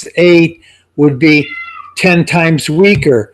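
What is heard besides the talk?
cat meowing in the background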